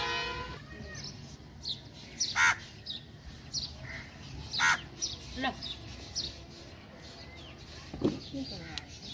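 A crow cawing several times in short calls spread out, fairly close, over a quiet outdoor background with faint voices.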